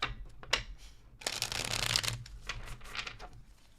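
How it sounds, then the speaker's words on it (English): Tarot cards are shuffled up close: a few quick riffles and taps, then a sustained whirring shuffle, then lighter flicks. "Last shuffle, please."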